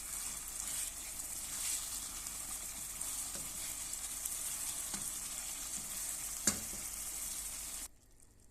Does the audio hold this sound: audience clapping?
no